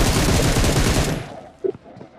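Gunfire in the mobile battle royale game BGMI: a dense burst of rapid automatic shots for about a second, then fading into a quieter lull with one short sharp report near the end.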